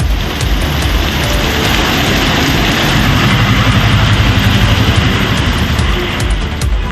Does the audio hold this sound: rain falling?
yes